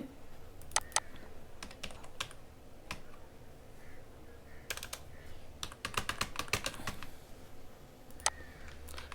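Someone types on a computer keyboard, entering text into a website form, with bursts of quick clicking keystrokes separated by short pauses, close and clear with no talk.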